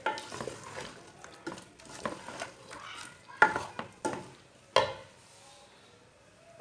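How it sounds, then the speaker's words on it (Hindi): A spoon scrapes and stirs a cabbage mixture in a pan, giving a series of irregular close clacks and scrapes over a soft sizzle, with no one talking. "इसे अच्छी तरह मिक्स कर लेंगे।"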